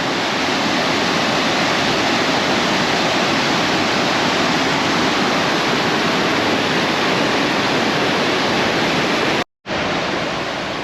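Josephine Falls waterfall roaring with heavy, powerful water flow, a loud, steady broadband rush that continues unbroken, with only a momentary cut near the end.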